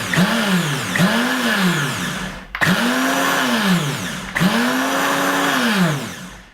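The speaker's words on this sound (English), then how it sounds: "So our first step is to pulse the shredded coconut until it's nice and fine." Shredded coconut pulsed in a Vitamix 9200 blender: three loud motor bursts, each spinning up to a steady high whine and then dropping away, close and with no voices.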